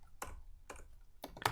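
Keystrokes on a computer keyboard, three short separate bursts of crisp clicks spaced about half a second apart, close and fairly quiet.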